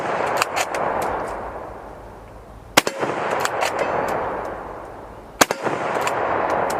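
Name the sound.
firing four rounds of steel case ammo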